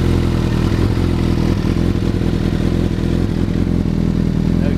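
A 2014 Suzuki GSXR 1000 motorcycle with an aftermarket exhaust running close by, a loud, steady low rumble with a rapid pulsing beat and light rattly revs, and no talking.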